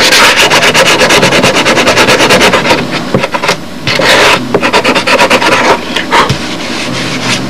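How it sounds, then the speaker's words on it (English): Sanding a crash-damaged Tigercat model plane repair with a carbide block, loud close rhythmic rubbing and scraping strokes in quick bursts with brief pauses, no talk. "I can move to the smooth side of the carbide block"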